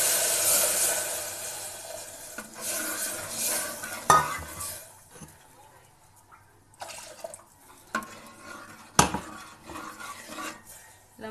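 Horse gram rasam is poured into frying masala in a pan and stirred, bringing bursts of sizzling and splashing, scrapes and clinks of a utensil against the vessel, and quieter simmering gaps, with no speech.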